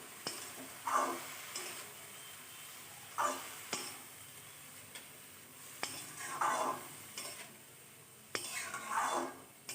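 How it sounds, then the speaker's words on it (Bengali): A metal spatula (khunti) scrapes and stirs food in a pan in a home kitchen, several separate scraping strokes with sharp metallic clanks against the pan, moderately quiet with a light background hiss. "আমি ভাত ছাড়া অন্য কিছু চামচ দিয়ে নাড়তে পারি না তাই সব সময় এই খন্তি দিয়ে আমাকে নাড়তে হয়"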